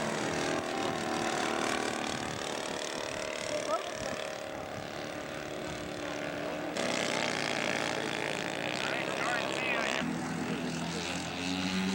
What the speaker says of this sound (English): Nick's off for his Sunday flight, beginning of the air show